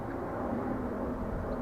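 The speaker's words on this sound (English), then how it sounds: "We're under the flight path from London City Airport" A broad, steady jet roar of an airplane on the London City Airport flight path hangs overhead at moderate distance in southeast London, smooth and continuous without voices.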